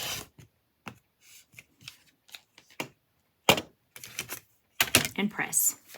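Scissors or a rotary cutter trimming a foundation paper pieced quilt block, a series of short, sharp cutting and paper-rustling sounds close by, coming in irregular bursts with brief pauses between them.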